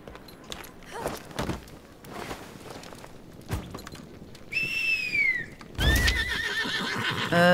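A horse in the Lost Ark video game gives two clear whinnies near the end, after scattered hoof clip-clops and footsteps. A fuller, louder neigh follows the first, and the riding sounds are close and distinct.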